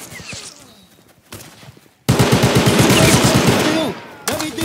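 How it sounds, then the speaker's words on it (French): Gunfire in a first-person shooter video game: a quieter stretch gives way to a loud, sustained burst of rapid automatic shots that cuts off abruptly near the end, then resumes briefly. "je tire sur un cadavre"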